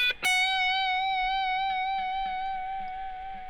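Electric guitar lead with distortion or fuzz and a wah pedal at the ready: a sharp picked attack, then a long sustained note ringing with rich, steady overtones that fades slowly, loud and alone.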